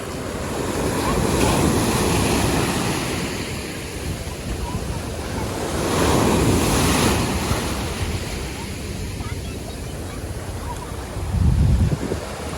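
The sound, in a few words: waves on the beach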